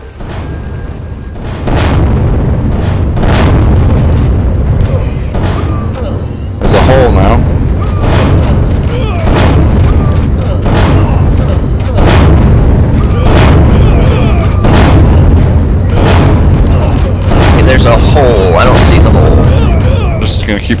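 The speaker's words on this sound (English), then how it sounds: "Stop blowing up the ship, please." Repeated heavy booms and blasts from gunfire on a ship in a video game, sharp bursts every second or two over a steady low rumble, with players talking throughout.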